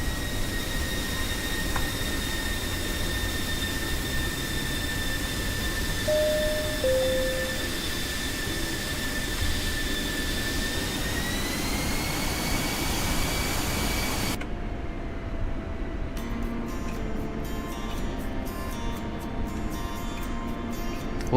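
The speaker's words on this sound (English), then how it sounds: "I'm just going straight for the runway and taking off" Aircraft engine droning steadily as a plane rolls down the runway and takes off in a flight game, whining tones rising, then cutting to quieter engine noise with intermittent clicks.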